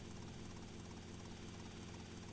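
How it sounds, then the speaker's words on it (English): Helicopter in the video game GTA Vice City, a faint, steady rotor and engine drone that holds evenly throughout with no speech. "Chopper checkpoint."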